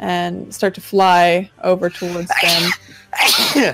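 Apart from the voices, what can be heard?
sneeze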